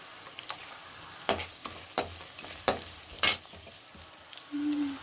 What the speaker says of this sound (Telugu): ఇంకా అలానే కొంచెం క్యారెట్ తురి వేసుకుందాం